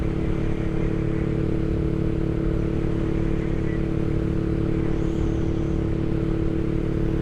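A 2023 Honda Rebel 500 motorcycle riding through a corner, its engine a steady, close, low drone under constant wind rumble with no change in pitch.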